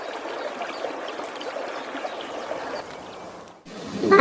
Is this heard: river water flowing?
yes